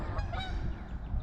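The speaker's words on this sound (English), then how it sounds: "The geese are just getting around to looking for places to mate at." Geese honk in a spring park, a quick burst of loud, nasal calls lasting about a second, fairly close and heard alone with no talking.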